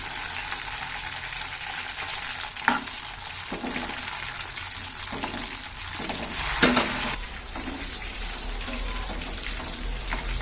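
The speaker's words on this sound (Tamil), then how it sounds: "முதலில் பச்சை மிளகாய் வதக்க வேண்டும்." Green chillies sautéing in oil in a pan for a spicy chilli thokku, a steady broad sizzle with a few louder scrapes of stirring, close and continuous, no voices.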